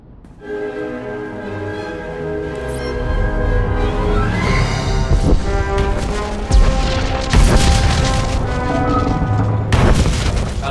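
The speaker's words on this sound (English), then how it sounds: "The charges are detonated." Detonated charges go off in Star Wars: The Old Republic, a series of loud booming blasts and rumbling crashes that build over a droning musical score, with sharp bursts near the end.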